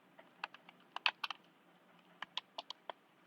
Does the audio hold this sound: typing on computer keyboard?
yes